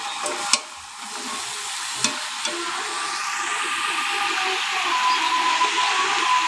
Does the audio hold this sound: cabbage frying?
yes